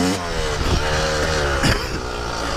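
A dirt bike fitted with Pro Taper handlebars runs close and loud, its engine droning steadily with slight rises in pitch as it is ridden.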